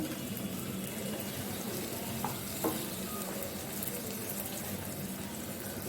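A steady, even sizzle of chickpeas frying in oil, with faint stirring scrapes now and then and no voices.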